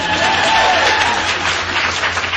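An audience claps for a business-branding speaker in a hall, a steady, fairly loud wash of applause running the whole time with no voice on top.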